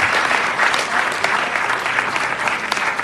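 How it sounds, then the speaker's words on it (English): Sustained applause from a crowd at a school graduation ceremony, dense and steady clapping throughout without pause. "let's give him another resounding round of applause"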